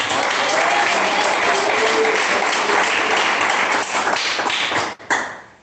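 A church congregation claps during a sermon, loud close dense clapping that runs steadily, then briefly dips and cuts out near the end before a final short flurry.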